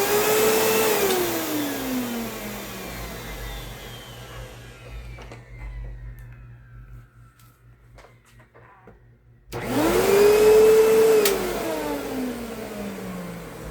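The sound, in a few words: Kenmore Progressive vacuum cleaner running with off-balance noise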